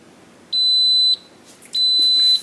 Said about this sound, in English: You can hear it beep